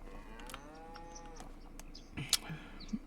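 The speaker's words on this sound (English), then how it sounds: "we've got about 140 head of dairy cows in here" Dairy cows in the farming video game Farming Simulator 25 let out a long, drawn-out moo, followed by scattered barn clatter and a few short animal calls at low volume.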